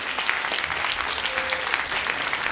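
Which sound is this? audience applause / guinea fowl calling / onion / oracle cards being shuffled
audience applause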